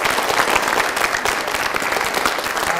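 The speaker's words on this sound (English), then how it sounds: "A little applause for the whole cast." A theatre audience at a Romeo and Juliet performance claps for the whole cast, loud, dense applause that holds steady throughout.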